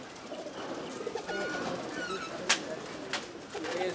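High-flying pigeons kept at a breeder's home in Chakwal coo together, low soft warbles mixed with a few faint chirps and a brief sharp knock over steady background noise.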